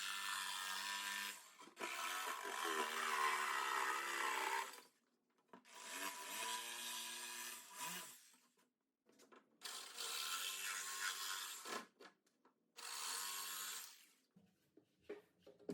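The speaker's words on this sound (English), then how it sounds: "I cut the notches for the posts." A power saw cuts notches for workbench posts in 1/2 inch plywood, four loud bursts of whining, rasping cutting separated by short quiet gaps.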